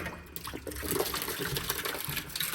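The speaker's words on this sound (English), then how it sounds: "There goes the water." Water from a heating boiler pours steadily out of an opened low water cut-off fitting into a bucket, a continuous close splashing gush with no voices.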